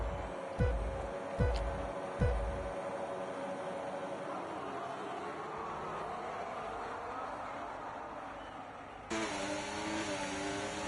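Race cars launching off the grid at Qatar in a racing video game: a few low thuds, then a loud, steady engine drone with rising revving pitch that swells abruptly near the end.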